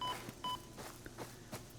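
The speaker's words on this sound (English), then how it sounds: "I got 3 beeps and I lost 3 points of health" Short warning beeps in Satisfactory signalling damage from poisonous gas, a few clear tonal bleeps repeated in quick succession over faint background game ambience.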